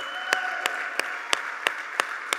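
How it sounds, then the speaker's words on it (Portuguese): A church congregation claps together in a steady, even rhythm, about three sharp claps per second, over a sustained musical tone in the background. "Vamos ficar em pé e dar uma salva de palmas para Jesus?"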